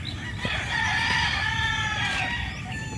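A gamefowl rooster at a breeding farm crows once in a long, rising and falling call over steady farmyard background noise, fairly close, with other fowl faintly clucking and no talk.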